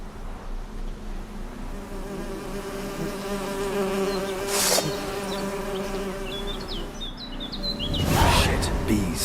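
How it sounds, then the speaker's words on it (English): Bees in The Witcher 3 give a continuous close buzzing drone under faint chirping birds, with a couple of brief louder swells. "Shit, bees."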